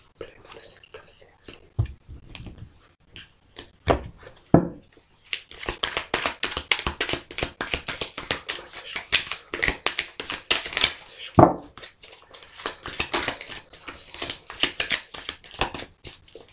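Tarot cards being cut and shuffled by hand, crisp rapid riffling and slapping of the deck in bursts, close and fairly soft, with a quiet voice talking between the shuffles.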